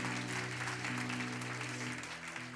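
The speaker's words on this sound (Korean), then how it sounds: "우리 하나님께 감사의 영광의 박수 올려드리기를 원합니다." Congregation clapping together at a Korean church healing service, a dense steady applause filling the hall from start to finish, with a sustained organ or keyboard chord droning beneath it.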